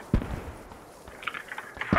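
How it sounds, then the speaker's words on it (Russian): Explosions as a mortar and its supplies are blown up in the Post Scriptum war game: a sharp blast near the start, scattered crackling debris, then a second loud blast at the end. "припасы и миномет взрываем"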